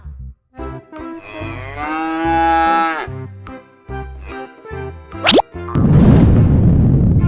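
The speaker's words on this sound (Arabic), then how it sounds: "بقرة." A cow gives a long, drawn-out moo over a playful children's tune with springy boing effects, followed by a bright whoosh and a noisy burst.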